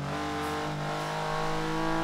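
A Porsche engine in Forza Horizon 3 holds a steady, tonal drone that climbs slightly as it revs, loud and close with no voices.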